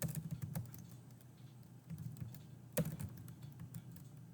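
Quiet typing on a computer keyboard during a text adventure game, scattered soft key taps with one sharper clack, close but faint over a low background hum.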